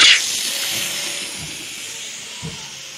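A burst of hissing steam from a Southern Pacific 6380 steam locomotive at the start that fades into a softer, lingering hiss, with a couple of faint low thumps.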